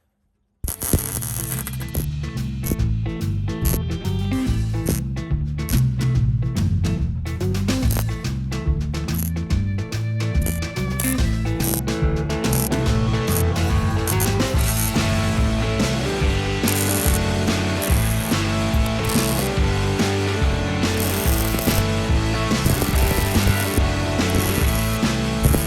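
Tack welding a water bay wall panel on a 1983 Newell RV gives a dense, continuous crackling buzz, loud and close, running almost unbroken for the whole stretch.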